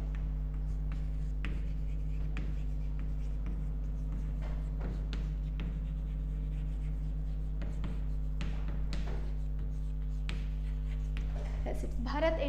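A marker or chalk taps and scratches across a board in short strokes while a company name is written during an accountancy class, faint and close under a steady low electrical hum.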